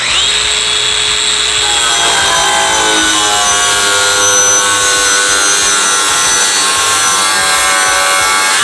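DeWALT cordless grinder cutting through a thick piece of wood, a continuous loud, close grinding whine with a pitch that shifts as the blade bites in, no voices.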